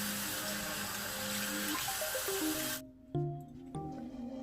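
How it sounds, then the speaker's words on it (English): Tap water runs steadily at close range while a face mask is rinsed off skin, a broad continuous splashing hiss that cuts out abruptly partway through, leaving faint sink clatter and drips. "So let's go ahead and rinse this off."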